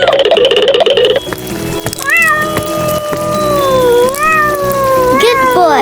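Cat meowing, several drawn-out, rising and falling meows close by, preceded by a brief burst of trickling, splashy noise.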